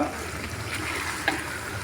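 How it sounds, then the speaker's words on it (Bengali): A soft, steady sizzle of onions frying in a pan, with a faint scrape of stirring partway through. "পেঁয়াজটা ভাজা হয়েছে একটু কালারটা"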